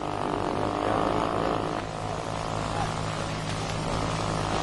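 A model airplane engine drones in flight and during landing, a steady buzzing hum with a low tonal rumble, continuous and fairly loud under a faint voice.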